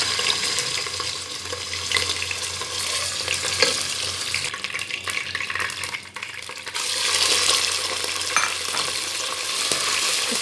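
Mutton pieces fry in hot oil for a Pakistani-style chandi korma, a steady loud sizzle with stirring scrapes running throughout, briefly dipping before surging back.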